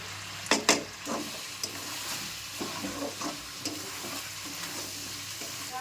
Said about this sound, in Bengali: আদা রসুন দিয়ে ভাজা ভাজা হয়ে গেছে